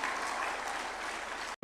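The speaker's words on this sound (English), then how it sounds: "they deserve a round of applause" Dense audience applause fills the hall at a judges' swearing-in ceremony at State House, Nairobi, steady and loud before cutting off abruptly near the end.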